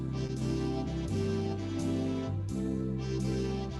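A keyboard's Swing Serenade style backing plays as soft sustained chords over a steady bass line and light rhythmic percussion, a continuous gentle accompaniment with no voices.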